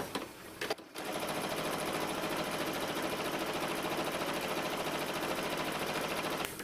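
A sewing machine runs steadily, stitching close to the edge of a denim accent strip on a blue jeans envelope purse; after a brief start-stop the continuous whirring motor carries on loud and unbroken, with no talking.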